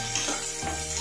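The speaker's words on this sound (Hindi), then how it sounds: "इन सबको अब हम हल्का सा भून लेंगे" Onions and capsicum stirred and lightly fried in a pan for paneer chilli, a steady close sizzle with scraping stir sounds over one second, no talk.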